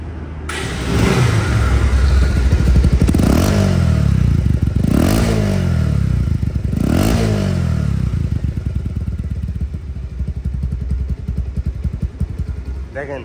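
A second-hand Bajaj Pulsar One Disk motorcycle engine idles close by, then is revved in three sharp throttle blips, each rising and falling back, before settling into a steady, slightly uneven idle.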